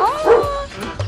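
A dog gives a short, close bark with yipping, whimper-like tones, lasting about a second.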